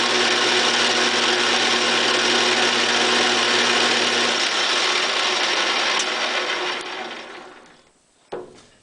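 A Honda EU2000i inverter generator runs at 1800 RPM with a steady, close mechanical hum and whir. The hum holds for several seconds, then winds down into quiet, and a brief clack follows near the end.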